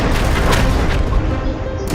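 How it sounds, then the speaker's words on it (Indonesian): A bomb exploding in a Roblox World War 1 battle game, heard as a deep, loud rumbling boom that rolls on with distant gunfire and artillery crackle, and no talk. "Waduh, buset, bom di depan mata."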